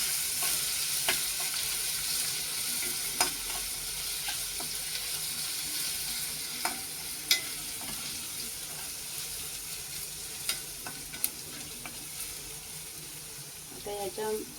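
Ginger garlic paste fries with onions in a pan for a cashew curry, a soft continuous sizzle broken by occasional clinks and scrapes of stirring, fairly faint and close, with no one speaking.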